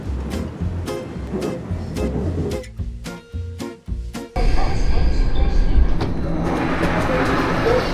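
A Seoul Line 4 subway train rumbling and clattering through a station, then a loud steady roar of the running train, with faint crowd noise in the background.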